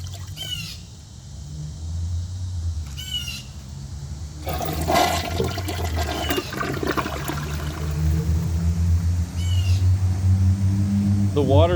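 A Mansfield Summit toilet flushes with a rushing, gurgling torrent of water that swells and keeps draining; faint bird chirps sound in the background.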